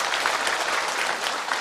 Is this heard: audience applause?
yes